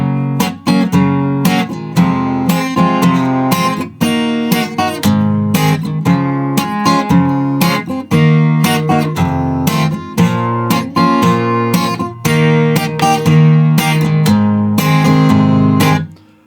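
Acoustic guitar strumming the chord changes of the bridge of a song, played alone in a steady bar-by-bar rhythm, close and fairly loud with no voice.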